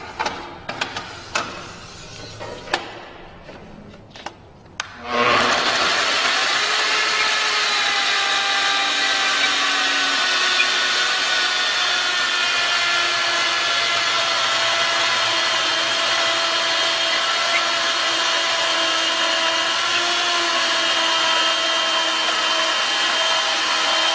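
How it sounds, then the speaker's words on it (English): A Mafell ZSX 400 Ec saw makes a 45-and-45 compound miter cut in wood, starting after a few soft clicks and handling sounds, then cutting with a loud, steady, high whining buzz. "Compound miter cut, 45 and 45."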